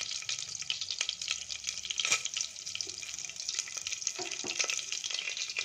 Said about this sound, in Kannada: ಇಲ್ಲಿ ಸಾಸಿವೆ, ಕಡಲೆಬೇಳೆ, ಉದ್ದಿನಬೇಳೆ, ಜೀರಿಗೆ ಹಾಕೋಣ. ಇದೆಲ್ಲ ಸ್ವಲ್ಪ ಚಟಪಟ ಅಂತ ಸಿಡಿಲಿ.